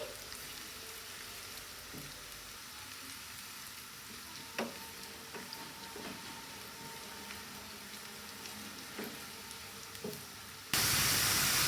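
Onions fry in a pan while being stirred, a steady close sizzle broken by scattered scraping knocks of the stirring utensil, swelling to a louder, brighter hiss at the end.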